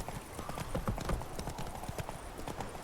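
Horse hooves in The Witcher 3 give a steady, fairly close clip-clop at a trotting rhythm, quiet overall, with faint game ambience and no talk.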